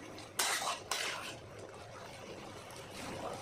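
A metal lid is lifted off a pot of mete chorchori simmering on low heat, giving two sharp clinks in quick succession, followed by a faint bubbling of the cooking pot.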